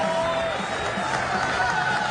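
Crowd noise edited into a Criss Angel magic stunt with a Shaq balloon, a steady murmur of many voices with faint cheering holding at an even level throughout the short stretch.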